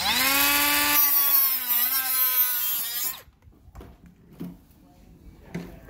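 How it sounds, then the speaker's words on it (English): An RV roof seamless rear wrap trim on a 2014 Minnie Winnie is cut to length. A loud, close whining cut runs for about three seconds, then stops and leaves a few faint knocks and handling sounds. "I just have to cut it to length, otherwise it's going to be hard to put this trim back on"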